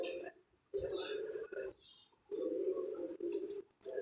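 A cockatiel gives a run of short, harsh calls in bursts with brief gaps, fairly quiet and near, at a nest box during breeding with chicks.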